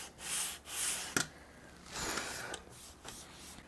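Rosewood is sanded on a 220-grit file board with light strokes, producing soft, faint rasping rubs in a slow back-and-forth rhythm with short pauses between passes.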